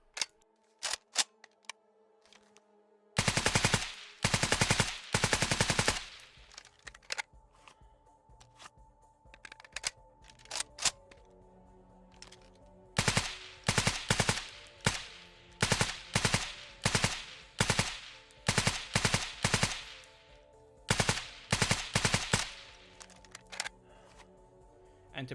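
Automatic rifle fire in the Squad video game, delivered as repeated rapid bursts of sharp, loud gunshots separated by short pauses, with some isolated single shots and no talking.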